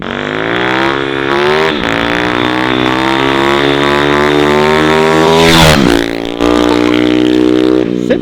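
Tuned 50cc moped engine with roughly tripled power, revving hard and loud during a wheelie, a sustained high-pitched buzzing whine that climbs and holds, then drops sharply near the end before picking back up.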